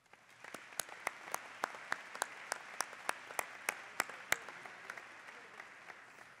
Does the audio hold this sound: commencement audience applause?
yes